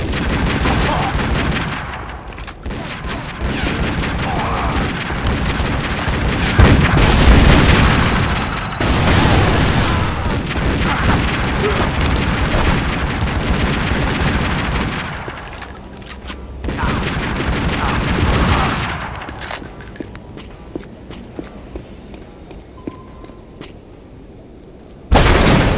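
Heavy gunfire in the video game Tomb Raider Legend, set in Kazakhstan: long, loud volleys of rapid shots and booms, nearly continuous with brief lulls, thinning into sparse single shots near the end.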